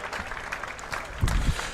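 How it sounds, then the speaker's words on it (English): Neath crowd at a Glamorgan versus Hampshire one-day cricket match applauding a bowler, a brief burst of distant clapping that swells near the end. "he gets a well-deserved round of applause from this Neath crowd"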